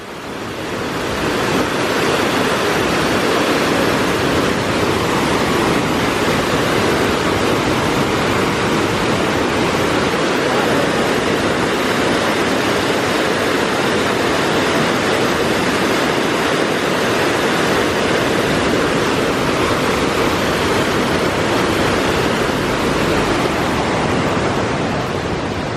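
Fast-moving water rushes through Clifton Gorge after heavy rain, a loud, steady, broadband roar that fills the scene without pause or rhythm.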